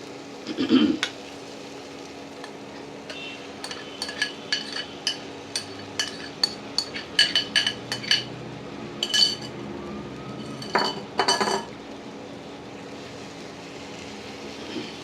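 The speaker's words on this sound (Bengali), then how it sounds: "হালকা হাতে মাছগুলোকে নাড়াতে হবে।" Marinated prawns stirred gently in a pan with a utensil, giving a series of light clinks and scrapes against the metal that come in irregular bursts, mostly alone and close by.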